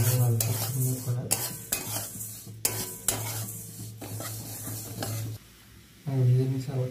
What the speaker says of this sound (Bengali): এখানে আমি দেখুন কড়ার মধ্যে কিছুটা মুগের ডাল নিয়ে নিয়েছি। এটা আমি ভালো করে আগে ভেজে নেবো।